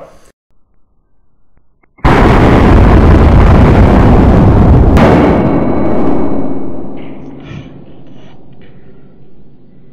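A Webley Fosbery semi-automatic revolver in .455 Webley fires a single shot, a sudden very loud blast after near silence, followed by a long rumbling echo that slowly fades.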